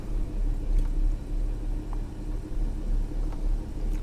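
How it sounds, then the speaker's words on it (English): A Porsche 911 Carrera S (997.2) engine idles with a steady low rumble and faint mechanical ticking, close by, no voices. "Let me start it up so you can hear that amazing engine."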